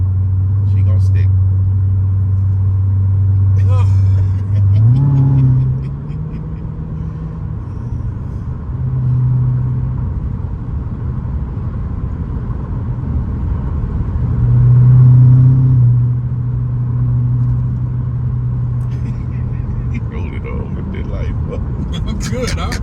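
A car accelerates hard into an S curve at around 65 to 70 mph, its engine droning and rising in pitch through several surges while a voice talks over it close by.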